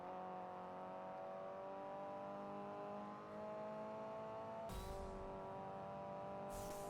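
A Lotus Exige in Forza Horizon drives up a mountain road toward a dam, its engine holding a steady, droning tone with a couple of brief sharp bursts near the end.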